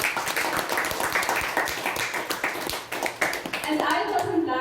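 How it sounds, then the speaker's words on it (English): An audience at a youth leadership program event gives a round of applause, dense rapid clapping running the whole time at moderate loudness, tapering slightly at the end while a voice talks over it. "A huge round of applause."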